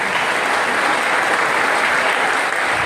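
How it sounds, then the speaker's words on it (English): An audience applauds steadily at a farm ownership event, the dense even clapping of a full room holding loud and unbroken throughout. "Can we please give Sam and Claire a round of applause?"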